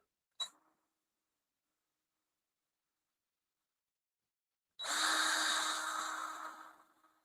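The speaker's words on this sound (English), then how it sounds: "So you use this little reamer here," A small hand reamer trims the end of a wood-and-resin pen blank, giving a steady, harsh, close scraping whir that runs for over two seconds and then tapers off. A single short click comes earlier, followed by silence.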